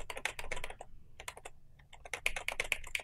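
Rapid clacking keystrokes on a loud computer keyboard, close and dry, in bursts with a brief pause in the middle before the typing resumes.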